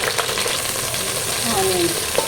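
Mustard seeds, cumin, dried red chilies and green chilies sizzling in hot oil for Telangana-style pappu charu, a continuous hiss with a few faint crackles.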